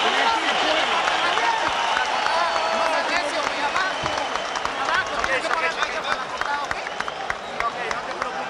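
Boxing arena crowd at the Erik Morales versus In Jin Chi WBC featherweight title fight rising to applaud and cheer, a dense sustained roar of clapping and voices with commentary talk over it.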